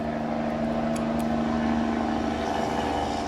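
A loud truck passes outside an open window, a heavy, steady engine rumble and drone that holds strong and close for several seconds with a slight swell in the middle and no voices.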